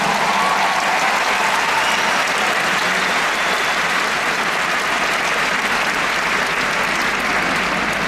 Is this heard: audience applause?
yes